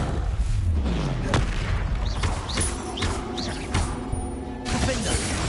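Spell explosions from Bombarda and Confringo in the video game Hogwarts Legacy go off as repeated booms and blasts, mixed with sharp impacts and combat effects.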